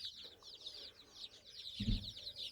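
A hen clucking while scratching and digging the soil of a coop with nine-day-old chicks, short repeated clucks over rustling, with a low thump or flutter near the end; no speech.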